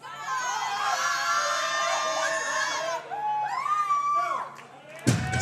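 A crowd at a powerlifting nationals cheers and whoops for a local lifter, with loud mixed shouting and yelling voices that rise and fall, ending in a sharp thump.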